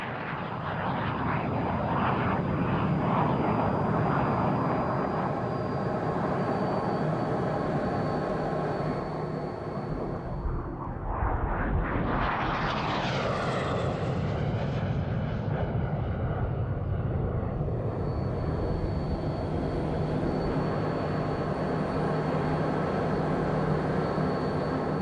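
A 1955 Czechoslovak-built Mikoyan-Gurevich MiG-15 jet, converted to a two-seat trainer, roars steadily in flight, a loud continuous engine rush with a rising and falling whine swelling midway, then settling back to the same heavy drone.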